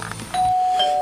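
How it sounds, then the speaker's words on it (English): A single electronic doorbell chime rings out clearly and sustains to the end, with no voices. "let's ring the doorbell."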